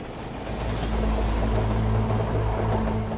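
A very long freight train rolls along steel rails, giving a dense, continuous low rumble with a steady hum that stays loud and close throughout, with no voices.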